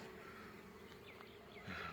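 Honeybee colonies buzz steadily at their hives while being fed sugar syrup, a soft, continuous hum of many bees close by with no talking.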